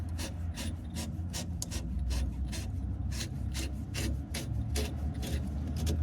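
A coilover spring collar on a 3000GT is spun by hand on Ksport coilovers, making a quick repeated rasping, scraping rhythm, close and steady.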